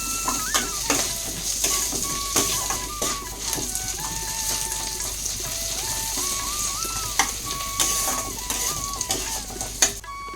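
Curry leaves frying in ghee in a pan, a continuous close sizzle broken by repeated scrapes and clinks of stirring, with a faint melodic chirping in the background and no talking.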